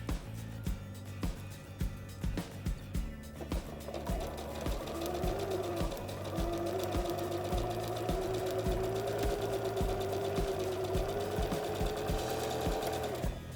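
A sewing machine stitching patchwork fabric, starting with a few short stitch bursts and then running steadily with a close, rhythmic mechanical whir and needle clatter, with no talk.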